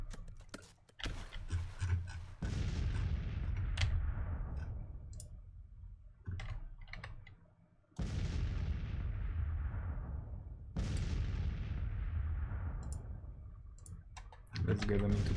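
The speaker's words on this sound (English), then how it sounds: "our cannons are opening up" Civil War cannon volleys in the strategy game Grand Tactician, a few sharp booming blasts with long decaying rumbles spaced several seconds apart, preceded and punctuated by interface clicks.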